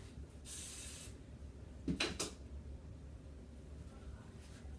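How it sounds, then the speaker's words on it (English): Hairspray sprays onto hair in one short hissing burst near the start, followed by quieter handling sounds and a brief rustle. "I'm going to take my hairspray."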